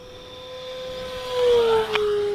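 An E-flite Electro Streak RC plane at full throttle gives a steady high-pitched electric motor whine that climbs and swells louder as it passes, then bends lower in pitch as it moves away.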